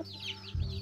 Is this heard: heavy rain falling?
no